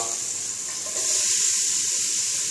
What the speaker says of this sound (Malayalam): ഒന്ന് ജസ്റ്റ് ചൂടായതിനു ശേഷം സബോള.